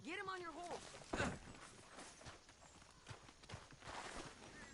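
Horse hooves clip-clop at a walk in the game Red Dead Redemption II, a steady moderate rhythm running beneath in-game dialogue and a loud impact near the start.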